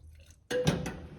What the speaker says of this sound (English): I'm just gonna put the drip down the carburetor